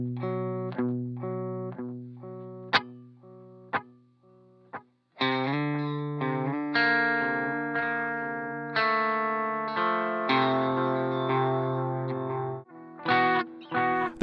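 Electric guitar played through a Strymon Brig analog delay pedal: picked single notes and chords ring out, each trailed by softened, rounded repeats, with short pauses between phrases and no talking.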